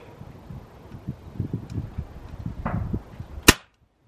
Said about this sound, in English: So there's 7 shots with this rather lovely HW45 Bronze Star